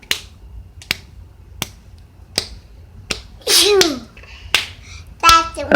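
Scattered finger snaps imitate the first raindrops falling, coming as sharp, separate clicks about every half second to second, with a voice and squeals breaking in partway through.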